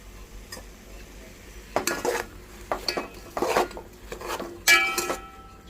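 A spoon scrapes and clanks against a pot while soya chunks pulao with tomato is stirred, giving several irregular metallic clinks and scrapes over about four seconds, close and fairly quiet, with no talking.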